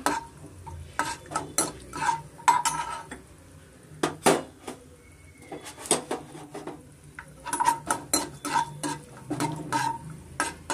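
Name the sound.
frying and stirring in a pan until golden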